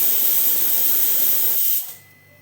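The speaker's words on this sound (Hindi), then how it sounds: "इधर मैंने अपने छोले बनने रख दिए हैं और मेरे छोले बन रहे हैं।" Chickpeas (chole) cooking in a pot on the stove give off a loud, steady steam hiss that cuts off abruptly near the end, leaving only a faint background.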